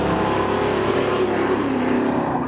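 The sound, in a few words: 1964 Chevy Chevelle and 1984 Chevy C10 drag racing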